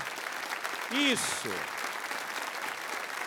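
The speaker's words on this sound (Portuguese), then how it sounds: "Irmãos, vamos dar uma salva de palmas à palavra de Deus." Congregation applauding during a Catholic church service in Brazil, steady clapping throughout, with a man's brief spoken word and a short whistle-like tone rising above the applause.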